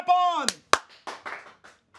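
Two sharp, close hand claps ring out in quick succession to switch on a clap-activated light, following a short burst of voice, with faint talk trailing off afterward.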